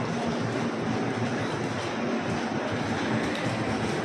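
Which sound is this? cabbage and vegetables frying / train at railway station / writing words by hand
train at railway station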